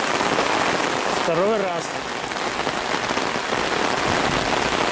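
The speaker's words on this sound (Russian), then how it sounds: "Дождик как из ведра." Heavy, warm summer downpour pouring steadily and loudly, as if from a bucket, a dense continuous hiss of rain on surfaces with streams running; a person speaks briefly partway through.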